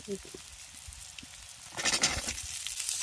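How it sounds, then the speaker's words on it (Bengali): Cut potato, eggplant and green banana go into hot fish oil already seasoned with mustard seed, cumin and salt. A soft background hiss turns into a louder burst of sizzling partway through, with a brief voice near the start. "আলু কাটা বেগুন কাটা আর ওই একটা কাঁচকলার কাটা দিচ্ছি"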